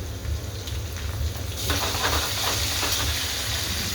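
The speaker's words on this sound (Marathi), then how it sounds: "आता मी हे कोथिंबीर टाकून घेणार आहे तेलामध्ये" Fresh coriander hits hot oil in a pan for misal pav, giving a steady broadband hiss and sizzle that grows louder partway through, with a low hum underneath and no talking.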